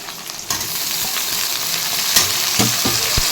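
Tomatoes tipped into a frying pan with curry leaves, a loud steady sizzle punctuated by a few sharp scraping stirs of the spoon against the pan.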